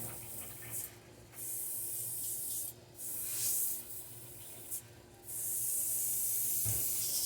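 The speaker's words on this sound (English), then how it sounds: "So we'll clean out the airbrush." An airbrush is cleaned out between colours while custom painting a crankbait fishing lure, giving short bursts of sharp hissing spray separated by brief pauses, close and fairly quiet.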